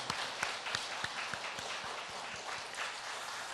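A church congregation claps for its choir at a year-end Sunday service, a steady wash of applause with a few sharper claps standing out and no talk.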